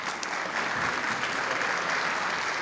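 Steady applause from a school concert audience for the graduating seniors of the Wilson High School jazz and symphonic bands, dense and sustained throughout at an even, fairly loud level.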